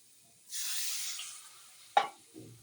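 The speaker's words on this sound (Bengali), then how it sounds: "এখন এটা একটু তেলের মধ্যে ভাজছে" Spices hiss and sizzle in hot oil in a pan: a steady bright sizzle that swells, then fades, with a sharp clatter near the end and a faint low murmur after it.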